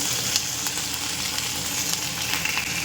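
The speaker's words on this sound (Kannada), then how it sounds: "ಇವತ್ತು ನಾವು ಬ್ರಾಕಲಿ ಫ್ರೈ ಮಾಡ್ತಾ ಇದ್ದೀವಿ ನೋಡಿ" Broccoli fries in a pan with a steady, close sizzle and crackle that holds evenly throughout, with no voices.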